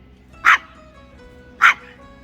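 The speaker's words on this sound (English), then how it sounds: "my dog is barking at nothing" A pet dog barks twice, two loud, sharp single barks about a second apart, close by over a quiet room hum.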